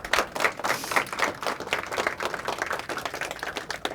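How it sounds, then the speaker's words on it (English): A small audience at a community talk gives the first speaker a round of clapping; individual claps stand out in an uneven, fairly close patter that lasts the whole stretch. "So now give them applause."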